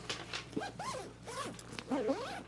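A zipper runs closed on a ThinkTank Essentials convertible rolling backpack in a few quick, close, scratchy pulls.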